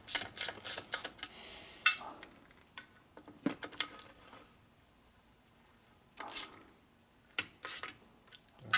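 Nuts being tightened on a 1972 Harley-Davidson Ironhead Sportster XLCH engine case, with bursts of rapid ratchet clicking separated by quiet pauses, close and fairly clear.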